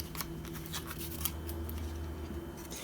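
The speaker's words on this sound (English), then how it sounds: "I'm going to cut my diagonal corners" Scissors snip the diagonal corners off handmade paper collage tags for a junk journal, giving a run of quick, light, crisp cuts close by over a low steady background hum.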